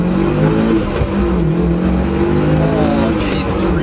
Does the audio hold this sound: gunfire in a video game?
no